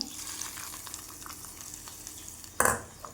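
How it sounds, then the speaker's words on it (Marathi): Hot tempering oil hits a Telangana-style beetroot yogurt chutney. Quiet scraping and stirring give way near the end to a sudden loud, brief sizzle burst that quickly fades, with no voices. "तर आता आपण तडका तेल टाकून घेऊया"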